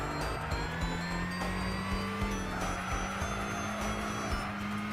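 A race car engine in Gran Turismo 6 drones at steady, high revs with a sustained tonal whine and faint tire noise, loud and close throughout, with no voices.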